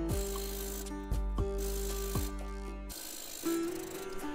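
A sewing machine topstitches a dress seam a presser-foot width from the edge, its motor whirring in several short runs, each starting with a rising whine and stopping abruptly, with a brief pause partway through.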